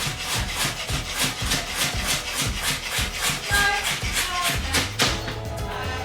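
A knife dices vegetables on a cutting board in quick, steady chops, about four per second, close and fairly loud with a faint background hum.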